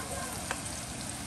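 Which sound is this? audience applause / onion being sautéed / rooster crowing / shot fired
onion being sautéed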